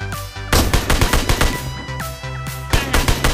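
SKS rifle fire in the Metro mode of a shooter video game: a quick series of loud, close shots in rapid rhythm layered over game sound effects, with no voice.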